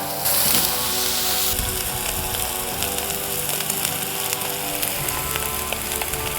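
Thick tomahawk steaks sear on a hot Blackstone flat-top griddle, giving a steady, bright, crackling sizzle that runs continuously, close and fairly loud, with a louder hiss at the start.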